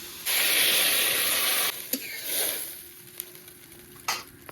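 Water poured into a pan of fried flat beans and potatoes sets off a loud burst of sizzling hiss that cuts out after about a second and a half, then softer bubbling and a few clinks follow, with no voices.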